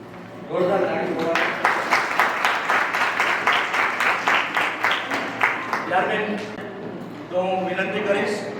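Loud applause and rhythmic clapping from a crowd at a retirement function, rising and holding for several seconds, with voices talking over it at the start and the end.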